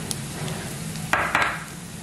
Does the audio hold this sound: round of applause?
no